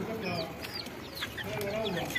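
Several Herati chickens cluck and chirp close by in short bursts, with people talking softly underneath.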